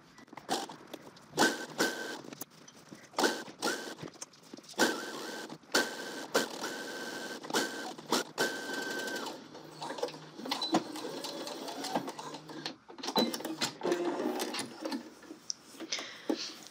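A sewing machine sews a seam in a series of short, close runs separated by brief pauses, its rapid ticking rattle starting and stopping repeatedly.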